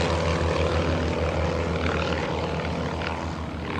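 Two propeller aerobatic planes of Redline Airshows fly a mirror pass, one inverted above the other, at the 2024 Blue Angels Homecoming Airshow. Their engines make a loud, continuous droning roar that swells and fades slightly as they pass, with no talking.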